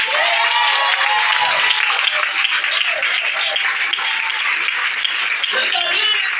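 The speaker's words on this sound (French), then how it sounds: "Acclame Jésus." A church congregation breaks into loud, sustained applause and cheering to acclaim Jesus during a sermon, with voices calling out over the clapping throughout.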